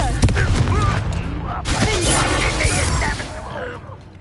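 A Confringo fire spell exploding during combat in the Hogwarts Legacy video game, a loud rumbling blast with crackling debris and bursts layered over battle noise, and a voice shouting over it.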